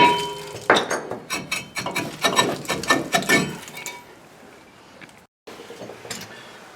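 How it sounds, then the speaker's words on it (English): Hammer blows on a rusted brake rotor face on a Dakota, a rapid series of sharp metallic strikes close by, followed by quieter shuffling and a final clank. "just take a hammer and hit it on the face here and it'll break the rust"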